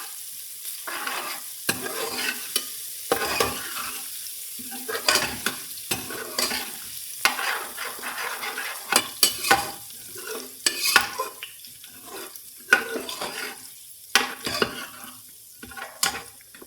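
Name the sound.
garlic frying and stirring in pan for daal mash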